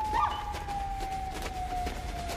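A police dog whines and howls in a long, steady, high-pitched cry during a struggle with a suspect, loud and close over a constant background rumble.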